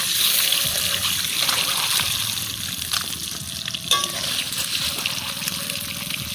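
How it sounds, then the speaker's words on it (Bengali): Eggs and potatoes frying in a pan during outdoor cooking in a forest, a loud continuous sizzle with bubbling, spattering oil and occasional stirring clatter up close. "ডিম আর আলু ভেজে নিয়েছি"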